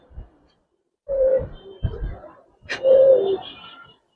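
Giribaz pigeons at a pigeon farm coo in a few short rounds: a brief call, then a longer throaty coo, and another deep coo near the end, close and fairly clear with quiet gaps between.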